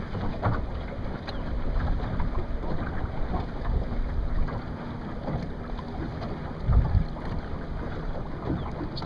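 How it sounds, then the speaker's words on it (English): Montgomery 15 sailboat sailing on Pinecrest Lake, with water rushing and lapping along the hull under steady wind buffeting the microphone, a continuous close wash with occasional louder splashes. "Wonderful sailing today here in Pinecrest Lake."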